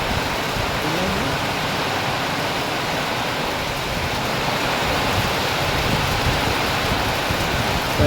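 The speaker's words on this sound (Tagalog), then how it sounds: "Biglang lumakas bagang ulan." Heavy rain pours steadily onto a roofed veranda, a dense, loud, unbroken hiss of water that holds at full strength throughout with no pauses.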